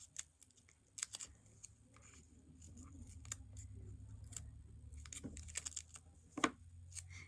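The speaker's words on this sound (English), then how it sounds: "These little cutter bee detail scissors work good for something like this." Small Cutter Bee detail scissors snipping around cling stamps, a series of quiet, crisp clicks and snips at an irregular pace, close and soft against a faint background hum.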